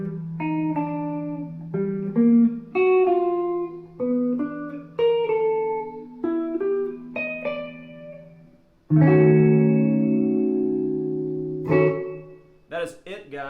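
Single electric guitar picks out a theme riff alone: a steady run of separate plucked notes over a low pulsing figure, then sustained ringing chords that fade, with a brief scrape of the strings at the end.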